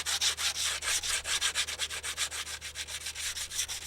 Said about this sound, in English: sandpaper just to get rid of this muck that's in here.